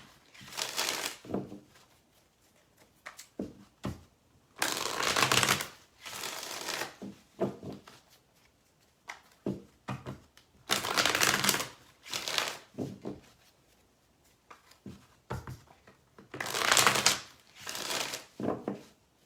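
Tarot cards are shuffled in repeated crisp bursts, each riffle a papery flutter separated by short pauses, close and clear.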